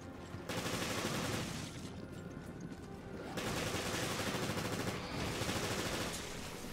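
Gunfire in the Resident Evil Revelations game, rapid bursts of shots in two or three loud stretches. Each burst is separated by brief quieter gaps, with no talk.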